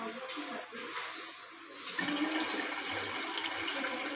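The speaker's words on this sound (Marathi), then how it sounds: "पाणी येतो." Water rushing into a Siemens IQ300 washing machine with a faulty door lock, a quiet hiss that swells into a steady, louder gushing flow partway through.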